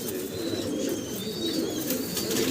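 Fancy pigeons, including pouters, coo in low, throaty, rolling calls that overlap continuously, close by, with faint higher chirps above.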